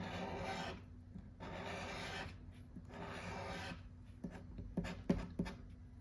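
A scratch-card lottery ticket is scratched in three sustained rasping bursts, close and fairly loud, followed by a few short, sharp scrapes.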